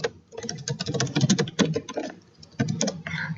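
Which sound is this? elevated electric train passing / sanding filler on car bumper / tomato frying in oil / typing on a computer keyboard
typing on a computer keyboard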